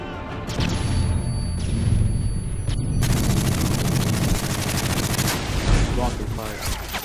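Rapid gunfire in a shooter video game's search and destroy match, dense loud bursts and sustained automatic fire throughout, with a player talking over it.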